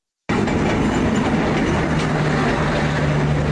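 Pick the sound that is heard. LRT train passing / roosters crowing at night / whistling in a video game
LRT train passing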